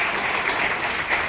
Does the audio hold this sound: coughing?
no